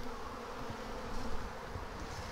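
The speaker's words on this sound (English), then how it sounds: "Look at all these bees, crazy." A dense swarm of honey bees hums steadily inside a swarm trap box, a close, continuous drone with slight swells in loudness and no talking.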